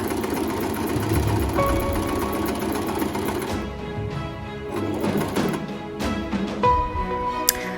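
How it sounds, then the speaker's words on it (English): A sewing machine running a zigzag stitch around cut pieces of shower-curtain fabric, a fast steady mechanical whir in bursts with brief stops and restarts, close and clear with no talk. "So I decided to run a zigzag stitch all around the cut pieces before, they pretty much disintegrated."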